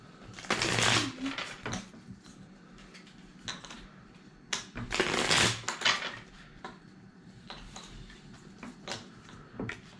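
Playing cards for the Jaipur board game being shuffled by hand, with bursts of riffling and rapid clicking repeating at intervals, close and fairly quiet, with no talking.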